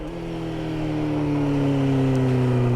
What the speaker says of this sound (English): look how fast the bike is deaccelerating on its own